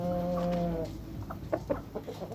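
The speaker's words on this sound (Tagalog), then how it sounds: "Tapos meron din tayo ritong Chinese chicken." A chicken clucks nearby, a drawn-out call followed by several short, choppy clucks, with faint background noise and no speech.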